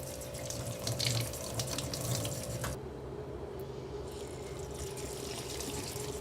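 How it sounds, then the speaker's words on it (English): Tap water runs steadily into a sink while fruits and vegetables such as avocados and bananas are washed, a close, continuous splashing stream that shifts to a softer, thinner flow partway through. "Even fruits and vegetables that you're going to peel, you want to wash first, such as an avocado or a banana."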